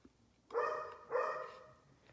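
A dog barks in two loud bursts about half a second apart, fairly close by, with no talk over it; a teacher indoors is disturbed by the barking.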